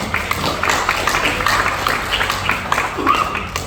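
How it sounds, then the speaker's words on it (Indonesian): A crowd at the KNPI golden anniversary celebration in Papua Tengah breaks into lively clapping, a busy patter of hands with a few sharper taps and faint voices mixed in. "Mari kita tepuk tangan dulu."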